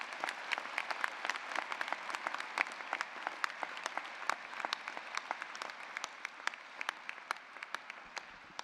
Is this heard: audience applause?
yes